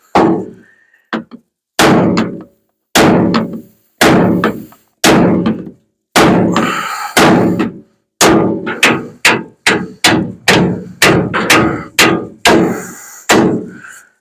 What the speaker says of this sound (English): never underestimate the power of a really big hammer